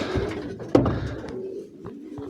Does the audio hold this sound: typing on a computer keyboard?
no